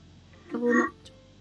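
A person vocally imitates a hawk call, giving a single short, close screech that rises and fades in under half a second, with quiet room tone around it.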